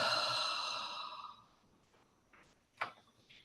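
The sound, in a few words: deep breath exhaled out the mouth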